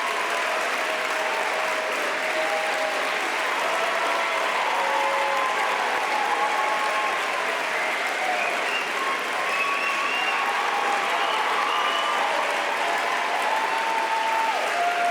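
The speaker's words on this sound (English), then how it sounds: "Let's give her a huge round of applause." Steady audience applause at a national party caucus gathering fills the whole stretch, dense and sustained clapping from a large crowd, fairly close and loud, with no talk over it.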